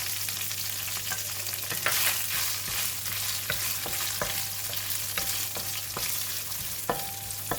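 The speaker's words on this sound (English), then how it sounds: "continue stir fry until all the ingredients release a nice aroma" Onions and shallots stir-fried with cauliflower in a hot pan produce a steady close sizzle, broken by regular sharp clinks and scrapes of a spatula against the metal, over a constant low electrical hum, with no voices.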